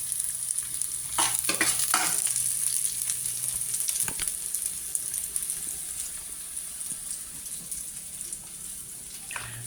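Garlic fries in a pan for pork kinamatisan with a steady close sizzle, and several sharp spatula scrapes and knocks come early on; no one speaks.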